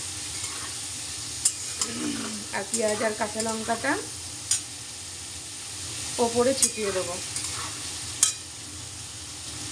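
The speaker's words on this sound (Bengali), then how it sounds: "এই যে আলুটা ভাজছি দেখো" Potatoes fry in a home kitchen pan with a steady low sizzle and occasional stirring clinks, while someone talks over it in bursts.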